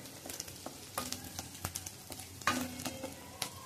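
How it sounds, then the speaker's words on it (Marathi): Ginger and garlic frying in a pan for a mixed vegetable soup, a steady close sizzle broken by scattered crackles, pops and the scrape of stirring. "थोडंसं तळून घ्यायचं आपल्याला. आलं आणि लसणाचा वास जाईपर्यंत आपल्याला"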